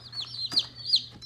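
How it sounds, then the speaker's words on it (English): A few short, soft clucks from a Cream Legbar cockerel, close by, over a low steady hum. "This is a cream leg bar cockerel"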